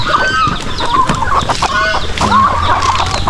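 Several chickens cluck busily and continuously, close by, with turkeys among them on a free-range farm and a faint bird-like crow or call mixed in; no talking.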